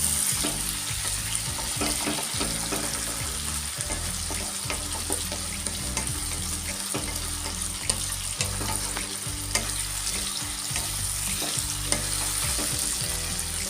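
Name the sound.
frying tomatoes in a pan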